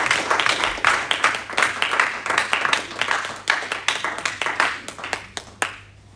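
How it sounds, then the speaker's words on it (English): Brisk applause from an audience at a live property auction, dense rapid hand claps that thin out and stop abruptly near the end. "Of course, a very, very warm welcome and a very warm round of applause to James Alexander."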